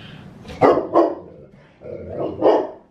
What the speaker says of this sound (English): And that is Sophie barking.